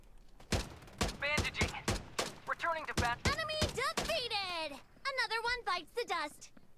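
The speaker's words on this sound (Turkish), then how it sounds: "Sonunda silah sesleri geliyor." Sharp gunshots crack repeatedly in the battle game Farlight 84, single shots and quick bursts spread unevenly, while a voice talks excitedly over the firing.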